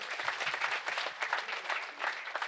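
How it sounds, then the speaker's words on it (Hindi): A rally crowd in Varanasi breaks into steady, dense applause welcoming a new member joining the Aam Aadmi Party, the clapping continuous and fairly loud throughout. "मैं चाहूंगा आप सब जोरदार तालियों से इनका स्वागत करें।"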